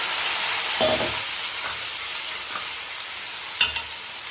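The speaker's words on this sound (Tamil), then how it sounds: "தலைக்கறி பாருங்கள் க்ளீன் பண்ணி வச்சுருக்கேன் தலைக்கறி சேர்த்துக்கலாம்" Goat head meat frying in hot oil with mutton masala gives a steady broadband sizzle throughout, with a few faint clanks of a spoon against the pan, the loudest two close together near the end.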